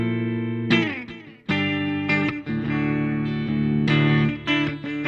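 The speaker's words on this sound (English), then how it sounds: "So that's the sound of the guitar and the setup with just the both pickups position with a coil split." A PRS Custom 24 electric guitar with both pickups coil-split, played through a Spark40 amp, rings out a handful of bright, sustained notes and chords coloured by an effect, each strike distinct.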